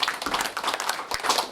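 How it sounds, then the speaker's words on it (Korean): Clapping hands at a public launch event for a citizens' special-prosecutor group, a dense burst of claps lasting about a second and a half, fairly close and loud with no talk over it. "여러분 큰 박수 보내주십니다"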